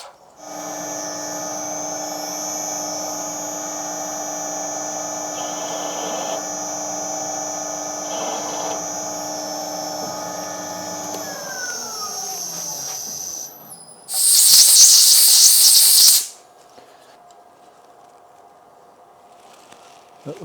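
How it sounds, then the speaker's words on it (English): A machine countersinking a threaded hole in a shop-made test indicator holder hums steadily with a whining motor tone, winds down, then gives a short, loud hissing burst before quieter hum returns. "Just going to countersink that a tiny bit more because I think it's just because of the base of the thread."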